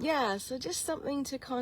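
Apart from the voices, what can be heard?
No everyday noises stand out.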